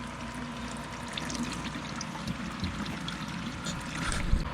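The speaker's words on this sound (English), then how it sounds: "So we're gonna let that drip into our bucket here" Old, dirty engine oil from a John Deere mower drips and trickles steadily into a bucket, a faint continuous liquid sound with a low background hum.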